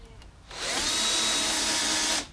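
Power drill boring a marking hole into pallet wood for a garden table, a single loud continuous whirring burst of about two seconds, close and alone.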